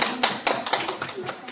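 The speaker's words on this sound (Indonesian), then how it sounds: "Tepuk tangan dulu untuk Bu RP." Applause for a presenter at an Indonesian teachers' session, with quick, irregular claps that fill the moment close by and fairly loud.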